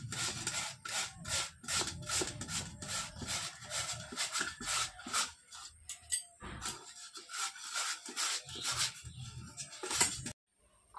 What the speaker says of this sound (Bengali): আলু 2টো আমি গ্রেটারে ঘষে নেব।